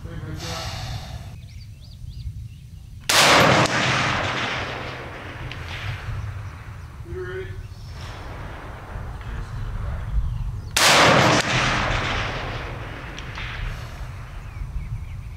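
Two sharp, loud rifle shots fired from a CMMG Endeavor 300 chambered in 6mm ARC, spaced several seconds apart with echoing decay, breathing and faint talk in the gaps.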